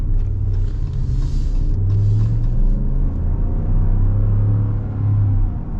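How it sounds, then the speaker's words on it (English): A 2024 Ram 1500 Night Edition pickup accelerates at over 5,000 feet elevation. A deep, loud engine rumble with a low droning tone stays continuous and close throughout, with no voices. "Now we'll see what the acceleration's like with the heavy power"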